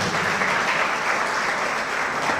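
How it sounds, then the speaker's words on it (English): Dense, continuous applause from a conference audience welcoming a youth commissioner of the Pan-African Movement's Rwanda chapter, loud and even throughout. "Let's give him a round of applause."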